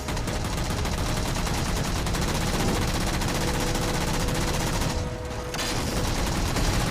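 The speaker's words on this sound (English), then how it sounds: "I'm firing off into the distance here." Continuous rapid automatic gunfire in the Halo 4 video game, a dense, loud stream of shots that drops out briefly near the end, then resumes.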